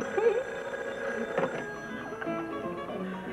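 A telephone rings faintly in an indoor room, a thin, soft bell-like tone heard once or twice at low level.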